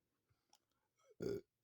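A single short burp, fairly close and clear, lasting about a quarter second, preceded by faint small mouth noises in an otherwise quiet room.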